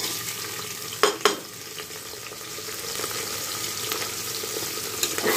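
Chopped onions frying in a pan with cinnamon and cardamom, a steady broad sizzle with a couple of sharp stirring scrapes near the start, close and continuous with no talking.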